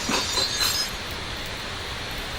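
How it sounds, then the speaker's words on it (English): Glass window smashed with a chair in the video game Scraps: a sharp crash with bright glassy clinks at the start, then a rattling, noisy tail of falling shards. "We know that we can break glass with chairs"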